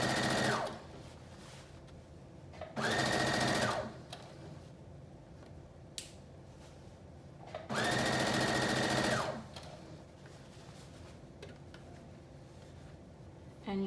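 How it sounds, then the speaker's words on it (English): A sewing machine stitches a dart in a Simplicity 8642 flutter top, running in three loud bursts of about one to one and a half seconds each, separated by quiet pauses. "So you're gonna go ahead and you're gonna sew your dart, following on your marking."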